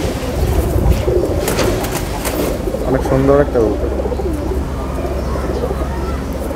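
Pakistani pigeons coo in low, rolling calls amid a loud, noisy background, while someone talks over them at close range.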